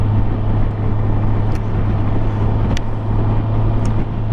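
A Honda Goldwing motorcycle cruises along the road, its steady engine drone mixed with heavy wind rush, with a few brief sharp clicks.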